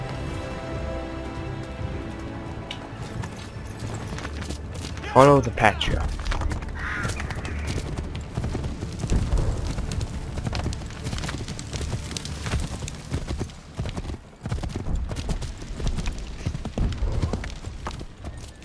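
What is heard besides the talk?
horse hooves clip-clopping in video game Assassin's Creed 3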